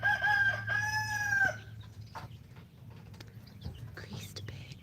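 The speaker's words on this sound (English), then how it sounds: "looking at chickens" Chickens at close range, with a rooster crowing loudly for about a second and a half, then softer clucking and scratchy rustling over a low steady hum.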